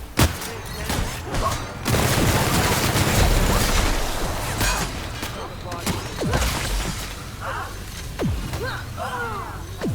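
Repeated gunfire bursts erupt in a firefight in The Outer Worlds, with a sustained stretch of rapid shots followed by scattered single cracks and thuds, loud and close, mixed with voices.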